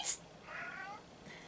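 A cat gives a brief meow at the start while playing with balloon strings indoors, then a softer drawn-out vocal follows, close and fairly quiet.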